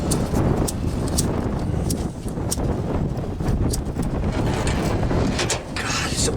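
Wind buffets the microphone outdoors beside a kamado grill in a constant rough roar, with gusts and scattered clicks, and a voice speaks faintly beneath it.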